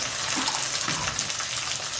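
Water poured into a pot of saag being cooked with crushed chilli and salt, a steady close splashing and sizzling wash with no talk.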